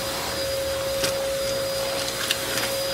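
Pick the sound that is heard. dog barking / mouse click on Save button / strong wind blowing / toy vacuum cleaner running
toy vacuum cleaner running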